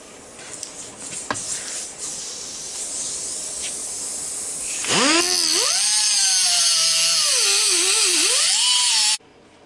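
Hissing and grinding at first, then a loud, close power tool whines and shifts pitch as it cuts through material before stopping abruptly.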